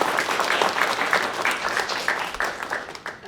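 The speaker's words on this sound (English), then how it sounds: "Let's give a round of applause." Audience applauding at a Women in IT panel discussion: steady, dense clapping from a room full of people, sustained at an even level for the whole stretch, with no talk over it.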